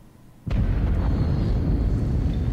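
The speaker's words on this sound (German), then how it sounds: "Das ist die Explosion von Mike." Explosion in the video game Until Dawn, a sudden loud boom that bursts in after a quiet moment and rolls on as a sustained roaring rumble to the end.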